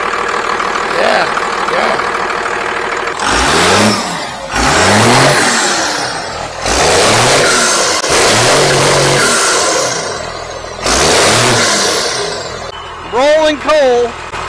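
A diesel micro van with a big intercooler revs hard in repeated surging bursts, rolling coal, each rev climbing and falling with loud rumble; people talk between revs.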